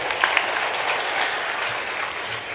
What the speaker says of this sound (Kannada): ಹೌದಾದ್ರೆ ತಾವು ಚಪ್ಪಾಳೆ ತಟ್ಟಬೇಕು